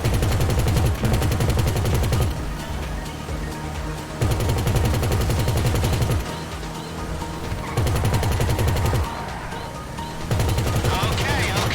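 Rapid automatic gunfire from the video game GTA V, loud and dense, coming in sustained bursts of a second or two that alternate with slightly quieter stretches of continued shooting over a steady rumbling background, with no clear voices.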